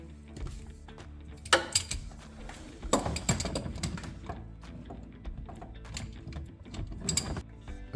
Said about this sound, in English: Use a 1/2 inch ratchet to remove the fill plug.